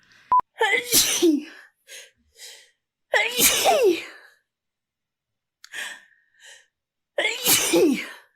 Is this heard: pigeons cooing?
no